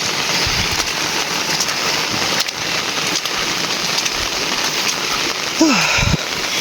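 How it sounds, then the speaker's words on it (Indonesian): Steady rain pours over a village beside rice fields, a dense continuous hiss throughout, with a brief low bump and a faint voice-like sound near the end. "Indahnya di kampung saat turun hujan ya"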